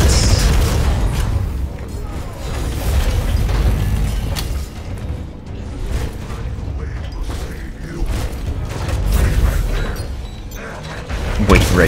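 Rocket explosions in Killing Floor 2 on the Black Forest map, dense rumbling booms and mechanical clatter filling the whole stretch with repeated loud bursts, while a player talks over the chaos.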